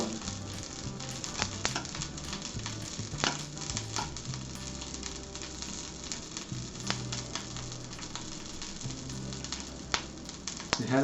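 Marinated tempeh frying in a hot pan, a continuous close crackling sizzle with scattered sharp pops and soft scraping stirs throughout.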